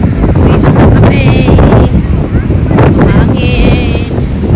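Gusty wind buffets the microphone at a beach, a loud, continuous rush that surges and dips over a few seconds, with people's voices faintly mixed in.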